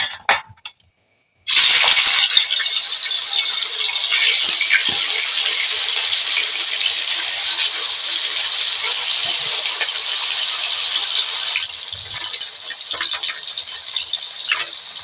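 Fish slides into hot mustard oil in a wok. After a brief silence, a loud, steady sizzle bursts up and keeps going without pause.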